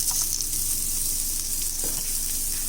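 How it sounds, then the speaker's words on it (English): Chopped onion pieces frying in a pan with oil alongside roasted spices, a steady bright sizzle throughout with faint stirring scrapes, close and alone without talk. "add the chopped onion pieces to it"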